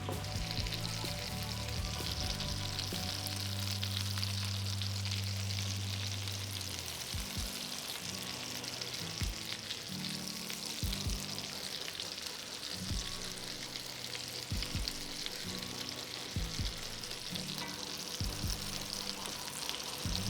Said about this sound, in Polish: Smażyłem je koło 6-7 minut z każdej strony.